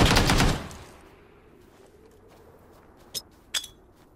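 VSS rifle fire in PUBG on PlayStation: a burst of rapid suppressed shots at the start, then quiet, followed by two short separate sharp cracks near the end.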